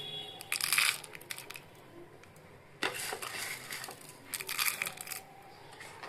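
Dried red chilli, coriander and cumin ground with a tomato into a paste, giving bursts of gritty crushing and scraping in three rough episodes, fairly close and with no talking.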